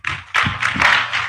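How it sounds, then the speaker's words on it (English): An audience at a freshers orientation seminar claps, giving a short run of loud taps that drop off briefly and then resume more densely. "Clap, clap, clap, clap well"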